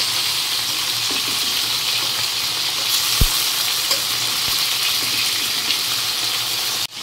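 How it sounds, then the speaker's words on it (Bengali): Fish fried in a pan gives a steady, loud sizzle throughout, with a few soft clicks as the pieces are turned and a brief clatter at the very end. "তো মাছগুলো ভাজা করছি"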